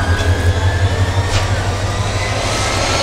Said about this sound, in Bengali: আর আমাদের ট্রেন এসে দাঁড়িয়েছে হচ্ছে ভৈরব বাজার স্টেশনে।